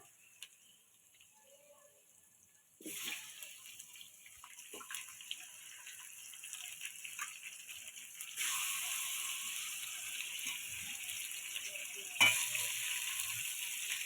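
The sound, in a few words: meat frying in oil with onion and green chilli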